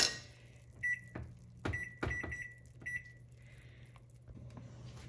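Short electronic kitchen timer beeps sound in a few separate pairs and bursts while tom yum cooks, along with clattering kitchen noises and a low background hum.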